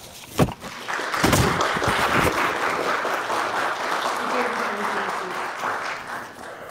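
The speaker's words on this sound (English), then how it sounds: "Let us welcome our new siblings in Christ with applause" A church congregation claps during Sunday morning worship to welcome new members, a loud burst at first that settles into sustained, even applause, with a faint tonal hum rising underneath toward the end.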